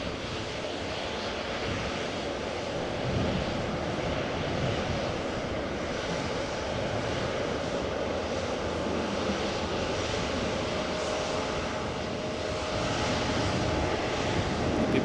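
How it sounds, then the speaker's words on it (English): Delta Airlines Airbus A350-900 taxiing at Amsterdam Schiphol Airport, a steady, continuous engine rumble and whine at moderate distance, holding level throughout. "Delta Airlines flight 744 has taxied all the way over here. A350-900 arrived from Atlanta,"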